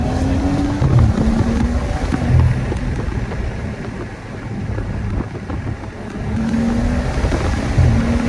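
BMW 335i F30 with an N55 inline-six on MHD Stage 2 tune, heard from inside while driving: a deep steady engine drone with rising and falling tones as it pulls through gears, with road and wind rumble underneath.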